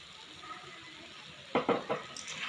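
Roasted peanut powder stirred into cooked cluster beans in a pan: a quiet low hiss, then a short burst of scraping and stirring strokes near the end, close and moderately loud.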